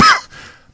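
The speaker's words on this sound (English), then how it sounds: "And everybody start coughing." A single short, sharp cough, close and loud, fading quickly into near silence.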